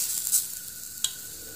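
Vegetables dry frying in a pan with rice flour give a quiet, steady sizzle, broken by two brief bright crackles as the pieces are flipped.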